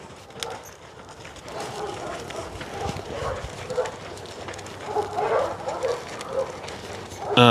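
Hooves clip-clop in an uneven trotting rhythm, fairly close, with faint voices and background noise around them.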